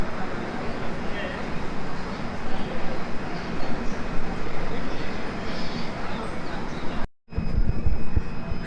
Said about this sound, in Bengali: তো চলুন ট্রেন ছাড়ছে